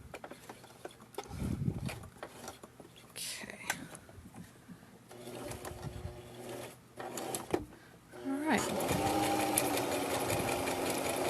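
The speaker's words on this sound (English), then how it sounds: "So we're just going to sew around the edges here." A sewing machine stitches around the edges of fabric for a mini messenger bag in short bursts, then runs steadily at the end, close up, with some quiet speech between runs.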